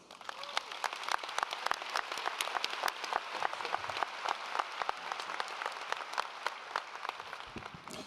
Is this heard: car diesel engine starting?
no